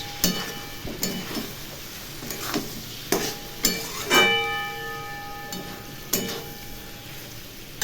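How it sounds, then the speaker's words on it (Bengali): A spatula stirs prawns and rice in a pan over a low gas flame after soy sauce goes in, giving repeated soft scraping strokes and light sizzling with occasional metallic clinks, close and moderately quiet, with no talking. "একটু নাড়াচাড়া করি।"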